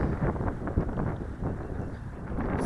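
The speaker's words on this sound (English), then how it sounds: "Sorry, it's a bit windy right now" Steady gusting wind at a mountain pass above a reservoir, a dense low rumble buffeting the microphone with no letup and no talk.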